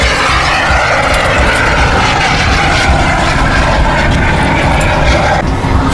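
A Viper Sport model airplane engine flying just after takeoff at an airfield in Khok Tum, Saraburi, giving a loud, steady, continuous drone that fills the whole stretch with no talking.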